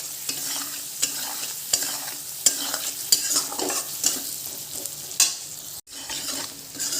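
Loud sizzling of chilies and onions sautéed in a hot pan, punctuated by regular sharp scrapes and knocks of a spatula stirring them, with a brief dropout near the end.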